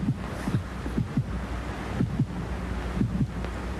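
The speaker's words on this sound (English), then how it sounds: "I can hear my heart beating." A slow, steady heartbeat thumps in soft double beats over a hushed, windy background.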